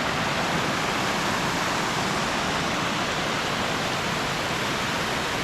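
A waterfall on Helvellyn in the Lake District roars steadily, a dense, broad rush of falling water heard up close, loud and unbroken throughout with no voices.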